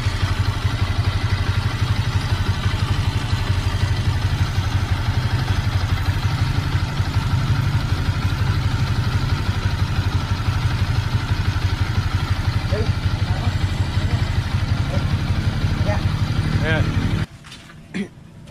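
A Honda Sniper 150 motorcycle engine idles after diesel is run through it to flush a coolant-mixing fault, a loud steady close-up putter with light clatter that cuts off near the end.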